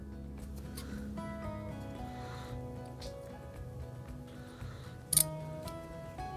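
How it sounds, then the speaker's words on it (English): Scissors snipping into the upper layer of fabric for pajama sewing, a few quiet close cuts over a steady background hum of music, ending in one sharper metallic snip. "I'm gonna cut into the fabric and pray for the best."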